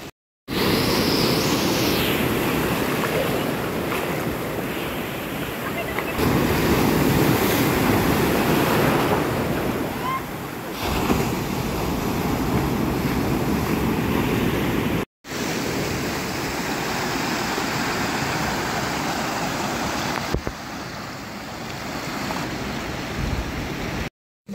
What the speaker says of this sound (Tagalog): ayan yung parating ng mga alon